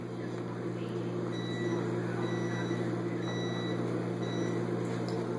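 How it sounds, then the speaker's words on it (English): A steady low mechanical hum from a running microwave oven drones throughout, with faint high beeps and soft background voices. "Daddy started the microwave."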